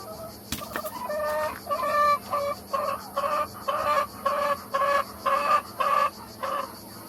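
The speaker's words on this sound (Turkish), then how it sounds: "karantinadaki tavuklarımın yanına geldim şu anda" Quarantined village hens cluck in a steady, rhythmic series of about ten evenly spaced, fairly close calls, each a short burst of nasal clucking over a quiet background.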